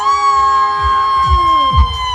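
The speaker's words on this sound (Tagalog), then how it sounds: "isang malaking hiyawan!" A large crowd at a national rally for peace cheers and shouts, a sustained roar with rising whoops and a long held tone running through it, loud and close throughout.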